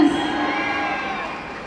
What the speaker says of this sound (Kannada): ಜೋರ ಚಪ್ಪಾಳೆ ಬರಲಿ.